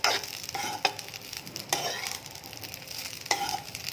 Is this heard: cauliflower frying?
yes